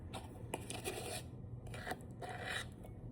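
A measuring spoon scrapes level across the rim of a baking powder can while preparing strawberry shortcake, giving a close, raspy rubbing in several short strokes with brief pauses between.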